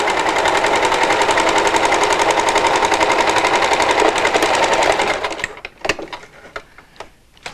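Sewing machine top stitching a fabric face mask, a fast steady whir running for about five seconds before stopping, followed by a few sharp clicks and taps as the work is handled.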